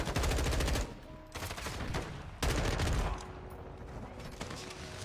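Gunfire from a gun in a video game beta, bursts of rapid automatic shots in two loud stretches separated by quieter, sparser firing.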